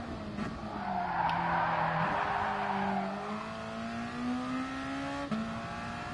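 Race car sliding and skidding in Gran Turismo Sport during a Nations Cup online race: a continuous engine drone shifting pitch under a broad tire-scrub hiss, loud and close, with no talking.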